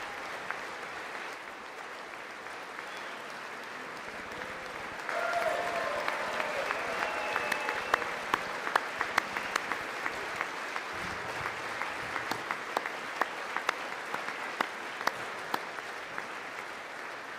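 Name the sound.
audience applause and clapping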